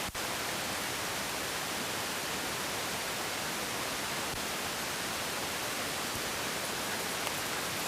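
Heavy rain pours down in a dense, unbroken roar that stays loud and even throughout, with no voices.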